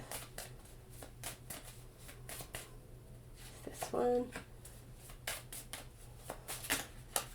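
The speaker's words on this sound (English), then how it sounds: "I'm going to try as much as possible to shuffle on camera" A deck of tarot cards is shuffled close by in a series of soft riffling bursts and flicks, interrupted by someone speaking briefly partway through.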